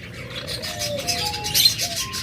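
A colony of Java sparrows in a bird shop gives steady, overlapping chirps and short piping calls, fairly close and moderately loud, with some thin drawn-out tones and no voices.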